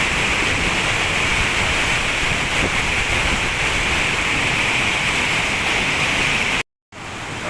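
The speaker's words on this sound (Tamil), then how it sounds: "பாருங்க எப்படி ஊற்றுது தண்ணி சூப்பராக ஊற்றுது" Water pours steadily over a weir on the Amaravathi River between Palani and Udumalaipettai, Tamil Nadu, in a loud, constant rushing roar, broken briefly near the end by a short dropout.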